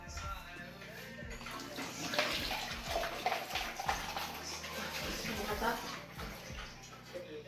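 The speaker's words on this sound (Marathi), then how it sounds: "साबण लावून धुशील ना? हिदर मी धुतो." An oily item being scrubbed with soap under running water, a steady splashing gush from the tap with occasional knocks and clatters nearby, while people talk in the background.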